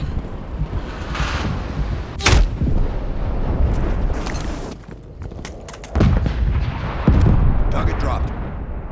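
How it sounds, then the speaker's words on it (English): Artillery strikes in Call of Duty Cold War land as heavy booms and blasts spread over several seconds, with rumbling impacts and crackling debris. People talk over the explosions. "Artillery inbound."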